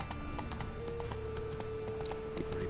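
Roach, the horse in The Witcher 3, gallops with steady clip-clop hoofbeats under game music and a sustained tone, with no talking over it.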